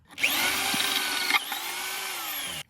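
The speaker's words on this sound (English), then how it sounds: "Drilling it big enough so that this can stay in there nice." A power drill with a 9/16-inch bit whines steadily for a couple of seconds while drilling a hole, its pitch dipping briefly mid-run before stopping, close and loud.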